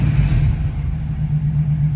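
A deep, steady V8 exhaust rumble from a 1980 Chevrolet Camaro Z28 idles close by, a continuous low throb with no voices.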